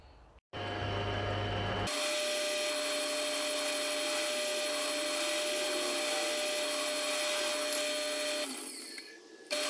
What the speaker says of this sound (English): I'll use a bigger drill and knock out some of the rest of the waste metal on there